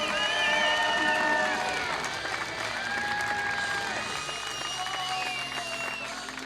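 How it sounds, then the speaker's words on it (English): Crowd at an MMA fight event applauding, a broad wash of clapping and cheering that stays steady and fades slightly, under an announcer's amplified voice speaking throughout. "Give them another round of applause,"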